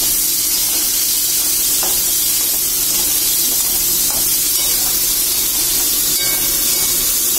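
Onions and chillies sauté in a pan for a spicy okra gravy, giving a loud, steady broadband sizzle with faint scrapes of stirring throughout and no talking.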